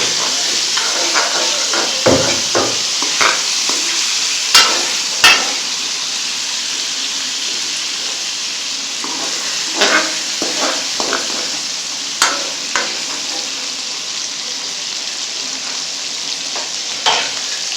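Chicken meat browns in a pot for a Peshawari brown gravy, sizzling steadily in hot oil. Scattered scrapes and clicks of stirring come through close and clear, with no talk.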